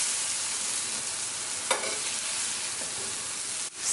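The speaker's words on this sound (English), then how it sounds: "So I'm putting my mushrooms now." Large portobello mushrooms fry in a hot pan with a steady close sizzle, broken by a couple of brief stirring clicks and scrapes.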